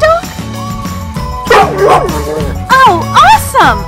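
Cartoon dog yipping and barking in a kids' learning show about plants and animals, several bright excited barks over music and cheerful voices.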